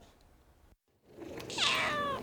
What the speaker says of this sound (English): For 2 months, these cats have been confined to these cages in this one room.